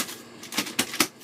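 A sheet of paper being crumpled by hand, a few quick crackling rustles growing sharper toward the end, close and moderately loud.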